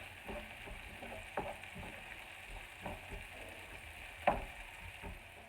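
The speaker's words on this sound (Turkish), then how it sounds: "Kavurmaya başlıyoruz soğanımızı." Onions with a little salt sauté in a pan with a low, steady sizzle. Occasional soft clicks and scrapes of stirring come through, including one sharper knock, all fairly quiet and with no talking.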